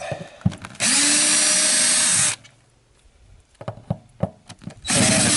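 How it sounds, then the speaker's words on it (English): A cordless drill whirs in two short bursts, removing 1.25-inch screws from an RV water heater, with clicks and clunks of handling between them, close and fairly loud. "Got a cordless drill, makes things easy, or corded is fine too."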